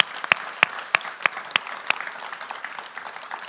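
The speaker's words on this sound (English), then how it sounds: "let's first give a big round of applause for Donald Coles." Sparse, faint clapping from a small audience at the close of a climate justice interview, a handful of distinct sharp claps spaced out over a few seconds.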